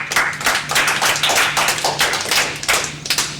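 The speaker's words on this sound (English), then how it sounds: "Let your applause die down." Applause from an audience at a hearing, a dense run of claps with scattered loud taps, sustained and fairly close, with a low steady hum underneath and no talk.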